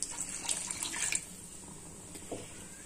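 Water poured from a glass into a cooking pot while making a simple Rayalaseema-style colour rice, a steady close splashing stream that fades after a moment, with no voices.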